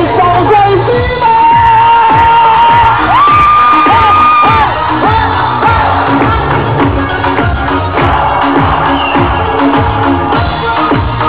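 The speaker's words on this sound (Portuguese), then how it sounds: "Esses palmas aí em cima!" A live concert audience in Argenteuil, France, cheers, whoops and claps loudly and steadily throughout, a dense crowd roar with music and shouts mixed in.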